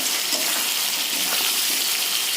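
Pointed gourd and potato sizzle steadily in a pan with salt, turmeric and spices, a continuous close frying hiss with soft stirring and no voices.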